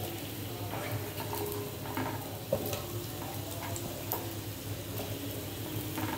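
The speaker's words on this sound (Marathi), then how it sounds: "त्यामध्ये हे जे काप आहेत ना ते आपण सोडूया आणि ते परतून घ्यायचे आहे तुपावर." Sweet potato slices sautéing in ghee in a pan, a soft continuous sizzle with a few light ticks and clinks, and one sharper knock near the middle, with no talking.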